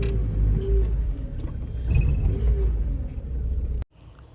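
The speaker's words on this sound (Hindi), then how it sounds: "गाड़ी बैक करते हैं यहाँ से।" A car reversing out of a spot on a trip from the village to the market, giving a steady, close low engine rumble that stops abruptly near the end.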